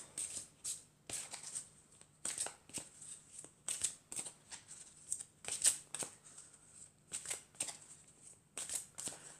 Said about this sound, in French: je vais prendre une carte de l'archange Michael pour savoir quel est son message pour aujourd'hui